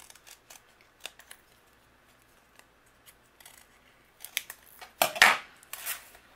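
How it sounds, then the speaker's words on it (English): Scissors snip through cardstock in a run of sharp, close clicks and cuts, sparse at first and then bunching into louder, quicker snips toward the end. "I'm going to trim away with my scissors"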